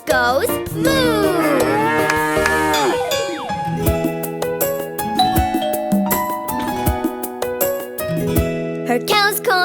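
A cartoon cow moos in a preschool animal rhyme, loud and clear over bright sung music with a cowbell ringing.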